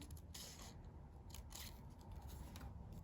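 Scissors cutting along red lines of a paper template, close and quiet, with a few crisp snipping bursts over a low background hum.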